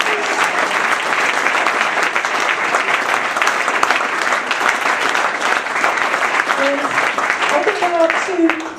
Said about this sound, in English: So a little round of applause for Sue